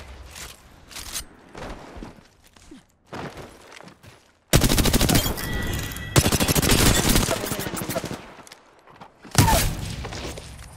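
Video game gunfire crackles in bursts, first short scattered volleys, then a loud sustained automatic stream mid-clip, and a final sharp burst near the end. Faint footsteps and movement sound in between.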